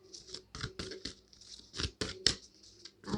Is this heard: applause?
no